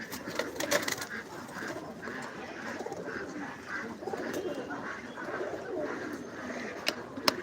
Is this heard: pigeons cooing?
yes